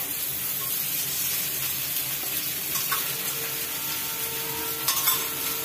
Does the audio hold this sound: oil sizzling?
yes